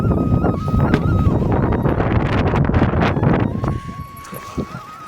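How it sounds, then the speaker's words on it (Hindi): Strong wind buffets the microphone in loud rumbling gusts, easing near the end, with a faint voice and a steady tone in the background. "यहाँ बहुत ही तेज़ हवा चल रही है इस टाइम"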